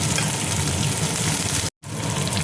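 Green chillies hit hot oil in a frying pan while making a peanut chutney, giving a steady, dense sizzle that runs loud and continuous, briefly cutting out before resuming.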